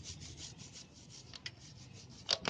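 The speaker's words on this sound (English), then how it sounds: "now I will exfoliate the chain with the brush" A brush scrubs a bicycle chain in faint rasping strokes with a repeated rubbing rhythm. A couple of sharper scrapes come near the end, quiet against background noise.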